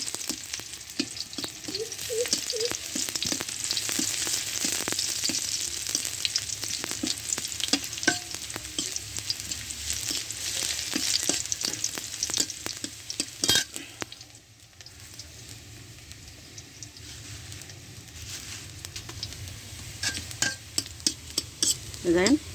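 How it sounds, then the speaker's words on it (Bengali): Chopped onions fry in hot oil with a continuous crackling sizzle, stirred now and then with occasional light clinks of utensil against pan; the sizzle dips briefly midway before building again. "দেখেন পেঁয়াজ কুচি আমার ভাজা হয়ে গেছে।"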